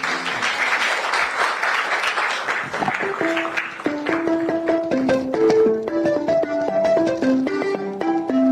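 An audience applauds to welcome poet Nana Asase: dense, loud clapping fills the first few seconds, then thins out as instrumental music with clear sustained notes takes over.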